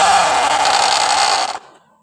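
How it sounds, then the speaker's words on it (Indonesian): A rough, steady engine drone with a gritty mechanical rattle from the CVT housing of a new Honda Scoopy scooter, loud and close, running for about a second and a half before cutting off abruptly. "Seperti itu suara kasar di bagian mesinnya."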